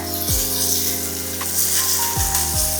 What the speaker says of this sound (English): Sauteing up nicely.